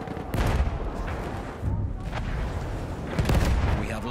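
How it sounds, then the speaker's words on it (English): Enemy machine gun fire in a World War I shooter game on the Amiens map rattles in loud, dense bursts layered with booms and battlefield noise for the whole stretch, with surges near the start and end. "There's an enemy machine gun"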